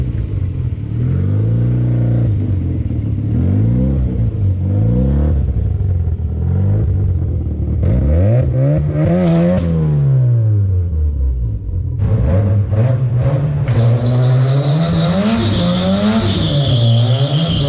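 A Mazda RX-7 engine runs in a garage, close and loud, with repeated revs rising and falling over a rough idle and no talk.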